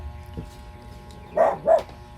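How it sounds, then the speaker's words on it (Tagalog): A dog gives two short, close barks in quick succession near the end, after a faint yip earlier, over quiet background noise in a Philippine home setting. "aso ni Duday. Halos. Tumatahol"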